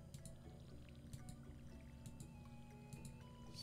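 Watering plants in a video game: soft, quiet trickling and splashing water over a low background hum, with a few brief clinks, no talk.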